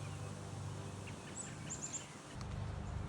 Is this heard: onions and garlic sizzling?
no